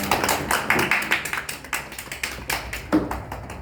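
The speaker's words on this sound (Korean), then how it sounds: "하나님께 영광의 박수 올려드립니다" A church congregation claps steadily in a reverberant room, many hands blending into a continuous patter of applause.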